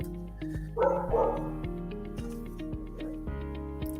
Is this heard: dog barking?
yes